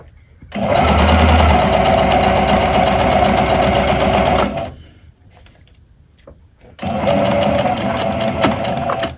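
A domestic sewing machine runs in two loud, steady bursts of rapid stitching through fabric for a pet bandana, separated by a quiet pause with soft handling noises.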